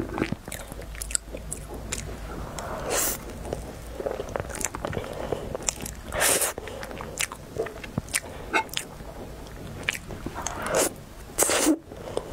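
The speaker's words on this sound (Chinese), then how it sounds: "奶黄千层，我第一次吃这个" Crisp bites and moist chewing on a custard mille-feuille pastry, close and intimate, with flaky crunches and soft smacking scattered irregularly over twelve seconds and no talking.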